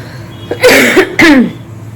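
Two loud, close coughs, one after the other, with a brief pause between them.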